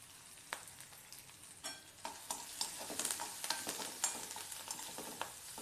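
Curry leaves stir-fried in oil for phodnicha bhaat give a soft, crackling sizzle punctuated by irregular spatula scrapes and small pops, fairly quiet and close.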